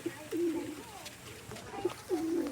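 Pigeons in a loft give two soft, throaty coos about two seconds apart, close by, with faint background noise between them.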